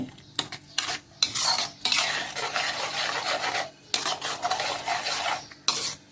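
Salted masala being stirred as it fries in a pan for a bhendi gojju, with repeated scraping and clinking of a spoon against metal in irregular bursts, close and moderately loud, with no talking.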